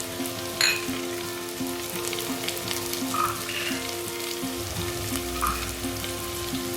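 Chopped onion, beans, peas and carrot sizzle steadily in hot oil for a vegetable chicken keema, a soft continuous frying crackle with faint clinks, with no voices.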